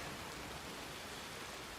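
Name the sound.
rain pouring down in a ranch roleplay video game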